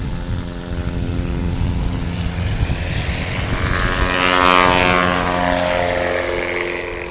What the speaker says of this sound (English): Excellent takeoff from Keith Lang.